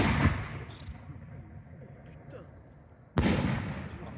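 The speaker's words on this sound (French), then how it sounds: "Ligne 6, bombe de 100." A 100 mm aerial firework shell launches at a pyrotechnics training session: a sharp loud thump at the start, a fading rumble, then a second abrupt bang near the end, with quiet voices between.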